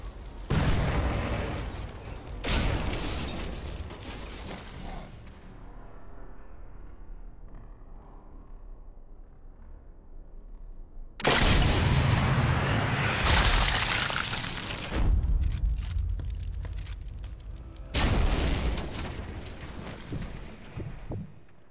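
A convoy blows up in the shooter game Sniper Elite 4, with several heavy booms and bursts arriving in separate waves, each loud blast trailing off into rumbling debris and quieter lulls between them.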